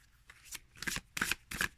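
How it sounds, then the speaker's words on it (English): Glossy oracle cards are shuffled by hand in four quick riffling bursts with short pauses between, crisp and close. "Let me shuffle that way."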